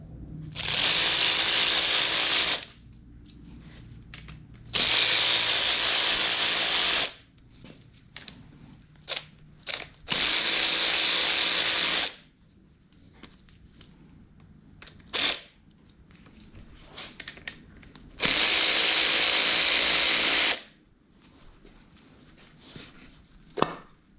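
Ratchet wrench cranking on 10 mm oil pump bolts during an engine teardown: four long bursts of rapid clicking, separated by quieter clinks and handling noises of tools and parts.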